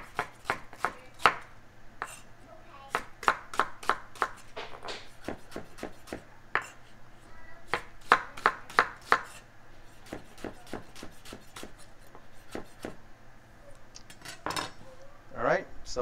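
A knife chops fish-curry ingredients on a cutting board in quick bursts of sharp, close taps, pausing between runs, with a faint steady hum beneath.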